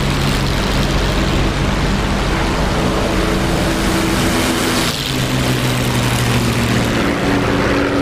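An aeroplane engine in the flight game DCS World drones steadily with a loud, constant propeller roar that holds for the whole stretch.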